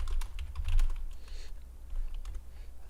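Rapid keystrokes clatter on a computer keyboard as a question is typed out, a close, busy run of clicks with a brief pause midway before more taps.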